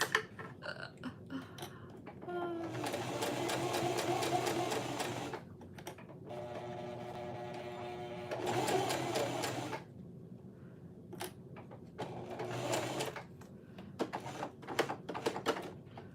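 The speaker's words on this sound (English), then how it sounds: "I don't remember the last time I sewed with uninterfaced cotton like this." A domestic sewing machine stitches thin, uninterfaced cotton woven fabric in three separate bursts of close, rattling whir, with quiet pauses and small clicks of handling between them.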